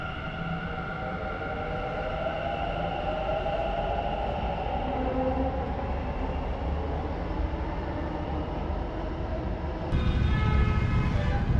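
Steady rumbling of a Bengaluru metro train in motion, with a whining tone and clatter, growing brighter and louder near the end as it changes pace.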